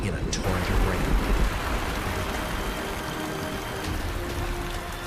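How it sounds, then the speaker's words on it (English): Heavy rainstorm over the Serengeti grasslands, a dense, steady hiss of downpour with low rumbling underneath, continuous throughout, with a brief sharp crackle near the start. "they burst in a torrent of rain."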